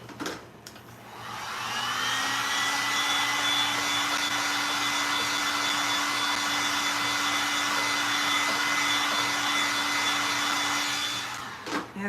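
A hair dryer drying paint on a canvas runs steadily and loudly for about ten seconds with a constant high whine, starting and stopping cleanly with no voices.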